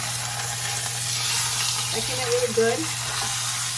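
Meat sears in a non-cast-iron pan with a faint, steady hiss under a low hum, while a person speaks briefly over it.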